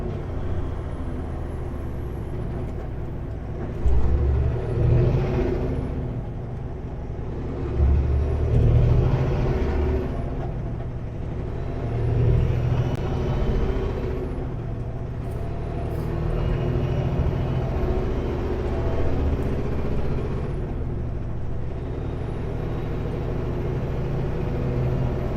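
Heavy Sunday-afternoon road traffic around Vancouver heard from inside a truck cab, a continuous engine drone with repeated swelling whooshes of passing trucks and brief hissing brake releases.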